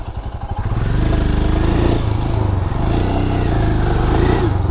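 Royal Enfield Himalayan motorcycle ridden off-road on a hill, its engine running loud and close with a steady throbbing drone that starts with choppy pulses and holds firm throughout.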